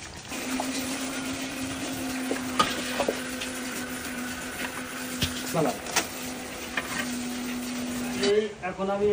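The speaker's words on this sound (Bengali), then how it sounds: "একে একে চানাচুরের পাশাপাশি বাদাম এবং চিড়াগুলো কিন্তু ভেজে নেওয়া হচ্ছে" Chanachur, peanuts and flattened rice frying in hot oil on a stove, a steady close sizzle with scraping stir strokes and clinks, and a voice speaking over the cooking.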